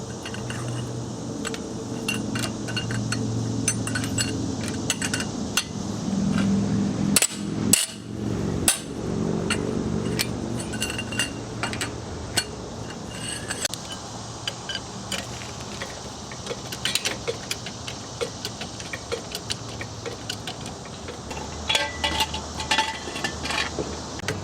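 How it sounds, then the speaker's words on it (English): Tight lug nuts on an Acura TL front wheel are loosened with a breaker bar extended by a length of pipe. Close metallic clanks and clinks repeat, with a cluster of sharp knocks partway through, over a steady low background hum. "place the piece of pipe over the breaker bar. That way you have a lot more leverage to remove these lug nuts"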